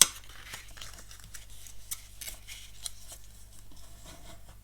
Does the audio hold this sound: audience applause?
no